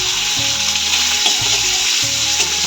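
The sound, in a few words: fish being fried in a pan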